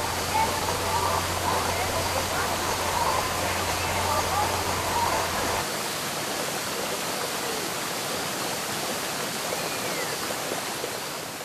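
Steady rushing water of a creek flowing nearby, a broad constant wash of sound that carries through the whole stretch without pause.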